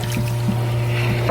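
Live fish thrash and splash inside a container of water while a pond is being stocked with bass, a continuous close churning slosh with small bursts of splashing.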